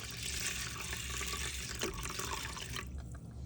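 Tap water runs continuously into a pot holding a cup of rice, the liquid steady and moderately close before cutting off near the end.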